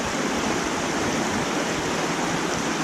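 A creek along a snowy mountain trail rushes steadily nearby, a loud, constant broadband wash of flowing water with no talk over it.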